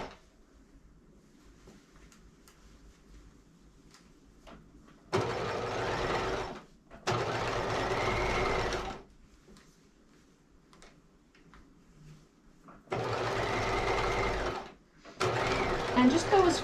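A domestic sewing machine stitches facing onto a capelet in four short bursts of rapid mechanical whirring, separated by quiet pauses, close and clear.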